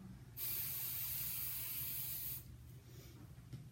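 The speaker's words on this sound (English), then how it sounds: "I'm going to spray and smooth" A single steady hiss of aerosol hairspray runs for about two seconds at close range, then stops, leaving quiet background.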